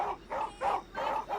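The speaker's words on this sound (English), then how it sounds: "I told you late at night my guard dogs are out, and they're out." Guard dogs let out at midnight bark repeatedly in a steady rhythm, four or five loud, close bursts with short gaps between them.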